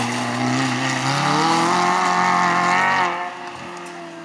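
A Renault Twingo R1 rally car at the 2015 Rallye du Suran drives off, its engine loud and high-revving as it accelerates with rising pitch, then dropping away and fading as it moves off, with no talking.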